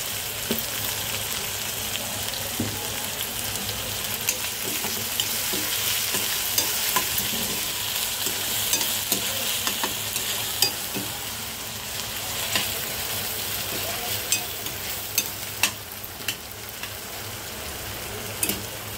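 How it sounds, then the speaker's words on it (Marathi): Onion and tomato fry in a pan with salt added while making shevla bhaji from dragon stalk yam. A steady, loud sizzle carries on throughout, with occasional scraping clicks from a stirring spoon and no talking. "आता कांदा आणि टोमॅटो मऊ होण्यासाठी आपण मीठ टाकूया"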